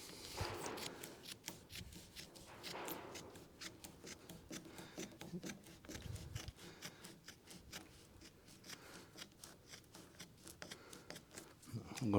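Scissors snip and rub through excess leather being trimmed along the rubber seal of a 1965 Ford Mustang door card, a run of close, quiet cuts and rustles in an otherwise still room.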